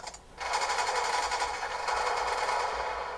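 Rapid, continuous minigun fire from the Death Machine in Black Ops 2, a dense rattling stream that starts abruptly after a brief pause and holds loud and steady to the end.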